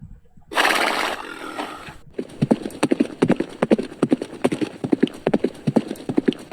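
Horse hooves clip-clopping in an educational video game: a loud whooshing burst gives way to a steady, rhythmic run of crisp hoofbeats, close and continuous, with no talking over them.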